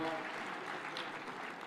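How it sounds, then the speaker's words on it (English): A conference audience in Homabay County applauds Senator Kajwang with a brief, even wash of clapping from a sizeable crowd, soft and somewhat distant, with faint voices underneath. "Another round of applause for Senator Kajwang,"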